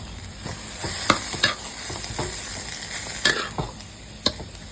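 Chicken stir-fried with southern Thai curry paste and pickled bamboo shoots crackles in a pan under a loud, steady sizzle, punctuated by several sharp spatula scrapes and knocks close up, with no voices.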